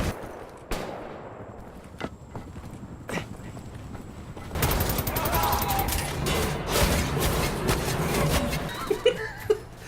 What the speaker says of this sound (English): You shoot those Nazis, Blasco.